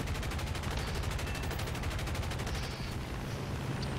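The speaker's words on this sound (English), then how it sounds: "we're going to start firing now and assume where he's going to be" Rapid bursts of .50 caliber machine gun fire from a P-47D fighter in a flight combat video game, a steady dense rattle running nearly unbroken through the whole stretch at high, even loudness.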